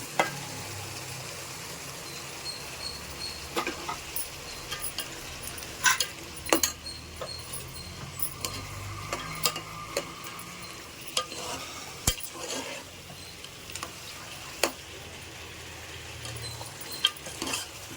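Pre-boiled mutton fries in oil with chilli powder and turmeric masala for a biryani, a steady close sizzle broken by scattered metallic clinks and scrapes of a spoon against the pan.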